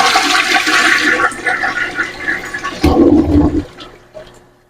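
A hotel toilet flushes loudly and close by, a rushing swirl of water that drops into a gurgling drain and then fades to quiet refilling.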